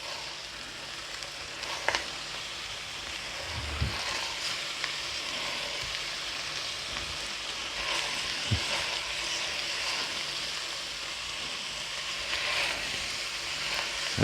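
Ground meat and onions fry steadily in a pan for chili, a continuous close sizzle with a couple of soft stirring knocks and no talking.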